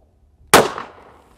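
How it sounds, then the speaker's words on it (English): A single loud, sharp shot from a Taurus M44 .44 Magnum revolver fired single action, sudden and close with a short ringing decay after silence. "Single action this time. That way I don't shoot my chronograph."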